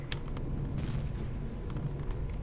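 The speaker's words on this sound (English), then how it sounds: "Yeah, I'm hearing explosions." Space-battle explosions in the survival game Empyrion rumble as a deep, continuous booming bed with a few sharper blasts popping through, fairly low in level.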